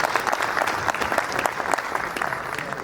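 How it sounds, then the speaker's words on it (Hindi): Steady applause from a crowd at a Hindi poetry gathering, a kavi sammelan, with dense, continuous clapping from many hands at a fairly loud level and no clear speech over it. "एक बार जोरदार ताली के साथ उनका स्वागत करिए।"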